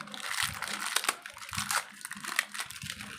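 Plastic wrapping crinkles and crunches in close, uneven bursts as a pack of electrical switches is opened by hand, the rustling steady with sharper crackles scattered throughout.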